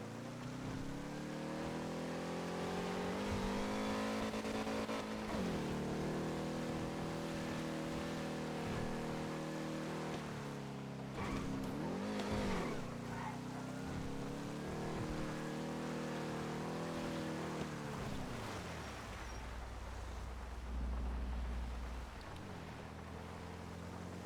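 A car engine drones steadily while driving in GTA V on the NoPixel roleplay server, with a sustained hum that dips and rises in pitch a few times as it shifts and accelerates, with no talking.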